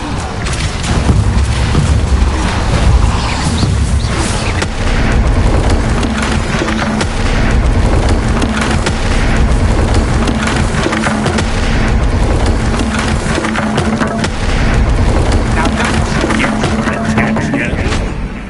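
A Depulso spell blast cast in the video game Hogwarts Legacy: a loud, dense booming burst that holds steady for the whole stretch, with a low tonal hum running beneath and a voice talking over it.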